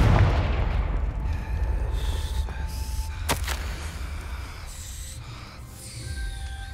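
A Confringo blasting spell explodes in Hogwarts Legacy with a heavy low boom that rumbles and slowly fades, broken by a sharp, brief crack partway through, then lingering mechanical creaks and hum.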